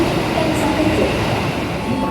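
The Taksaka passenger train from Yogyakarta to Jakarta's Gambir station rumbles along the rails in a steady, loud drone, heard from inside, with faint wheel squeals over the running noise.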